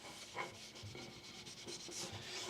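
A rag rubs coconut oil into a wooden slat of a cider press, giving a continuous close, soft scrubbing hiss with rhythmic back-and-forth strokes.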